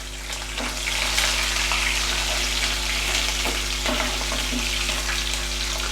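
Shallots, garlic and green chillies fry in oil with a steady, close sizzle, frequent small crackles and a low steady hum underneath, fairly loud throughout with no speech.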